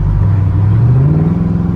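A Chevrolet Camaro SS engine drones loudly and close up, its low tone sliding upward as the revs climb through a gear shift, a continuous rumbling note with no talking.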